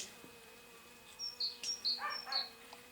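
Honeybees buzz faintly around an alpine beehive during early spring work at an apiary, with soft, intermittent bursts of buzzing that rise briefly in the second half over a quiet background.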